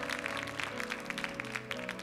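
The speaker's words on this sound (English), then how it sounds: "let's give the Lord a hand clap" A church congregation claps together in a steady patter of hand claps during a service, moderately distant and fairly quiet, over sustained organ or keyboard tones.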